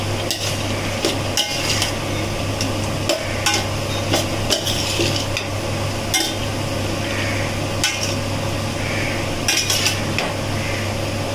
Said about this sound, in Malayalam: നമ്മുടെ മുതിര ഇതിനകത്തേക്ക് മിക്സ് ചെയ്തു ഒന്ന് ഇളക്കിയിട്ട് വയ്ക്കാം.